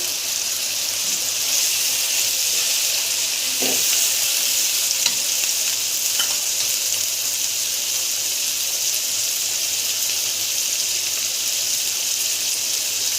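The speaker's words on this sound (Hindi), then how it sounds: "अब मैं इसको अच्छी तरह से भूनूंगी ताकि हमारा गोश्त जो है वो भी पक जाए" Chicken sizzling in a pan with salt, black pepper, turmeric and red chilli powder for a chicken jalfrezi, a steady close frying hiss throughout with a few soft stirring clicks and no talk.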